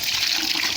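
Water pours steadily into goats' feed of soaked bread, a loud continuous splashing rush with no pauses, heard close up in summer heat.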